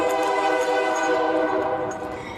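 A train horn blares loud and steady as the train approaches, a sustained chord that holds for the whole stretch and eases only slightly at the end.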